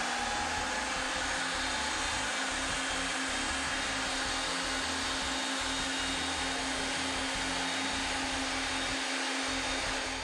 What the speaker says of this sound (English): So I'm going to have them close to thread the pipe.